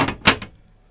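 A kitchen drawer in a 2000 Beaver Marquis motorhome, push-pull style, slides and knocks shut in a couple of short, close wooden bumps that fade quickly into quiet.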